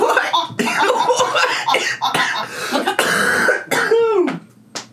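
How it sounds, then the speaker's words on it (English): A woman coughs and clears her throat several times in rough bursts, close and fairly loud, with some chuckling mixed in. "she got me coughing"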